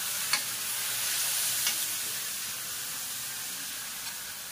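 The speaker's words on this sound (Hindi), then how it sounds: "थोड़ी सी कसूरी मेथी ये भी फ्राई कर लूंगी इसमें, थोड़ी भुन जाएगी" Dried fenugreek leaves (kasuri methi) fry in oil with a vegetable curry, giving a steady, close sizzle with faint stirring clicks throughout and no talk.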